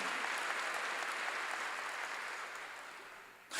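A church congregation claps during a Korean sermon, a steady wash of applause that holds fairly level and then fades toward the end.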